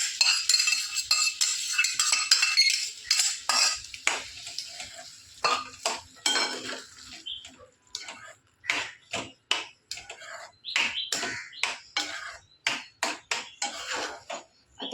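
A spoon stirs and scrapes mixed vegetables, including capsicum, in a cooking pot, giving irregular metallic clinks and knocks in short rhythmic bursts with brief pauses between them.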